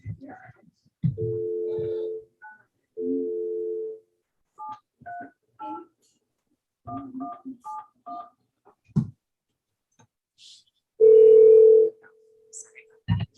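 A desk telephone on a conference call during a board meeting gives a steady dial tone, then short paired keypad beeps as digits are dialed, ending in another loud steady tone, with faint voices in between.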